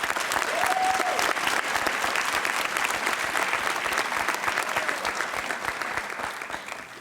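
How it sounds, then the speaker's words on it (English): Audience applause at a high school National Honor Society induction ceremony, a steady sustained round of clapping from a sizable crowd in a hall, slowly tapering toward the end. "let's give them all a round of applause for their exceptional achievements"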